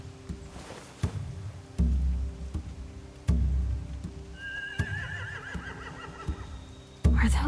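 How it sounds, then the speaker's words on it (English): Horses whinny and neigh in The Walking Dead: The Final Season video game, with a wavering high call around the middle of the clip over heavy low thuds and background game ambience. "They have horses."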